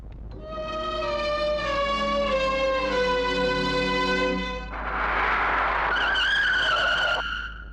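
A car skids hard with a long, loud tire squeal that bends in pitch, then a harsher, noisier screech follows as the slide continues, with no voices over it.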